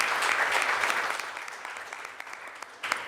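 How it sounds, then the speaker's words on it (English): Applause at a Boston city council meeting, a broad spread of clapping from the chamber that swells early, gradually thins and softens, then ends with a few scattered louder claps. "offer a round of applause for the chair of the Ways and Means Committee"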